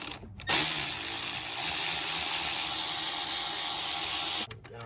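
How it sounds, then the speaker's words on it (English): Torx T25 bolt cracked loose with a ratchet on the oil cooler housing of a 2.0-litre M270/M274 Mercedes-Benz, a steady loud mechanical whirring, near and continuous for about four seconds, ending abruptly. "Break the bolt loose."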